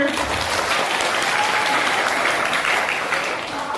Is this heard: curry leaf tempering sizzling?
no